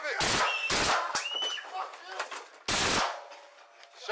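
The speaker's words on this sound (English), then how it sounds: "Shots fired." Gunshots fired during a police shooting, caught on an officer's body camera: three loud, close, sharp blasts, two in quick succession and a third after a pause, with shouting and commotion between them.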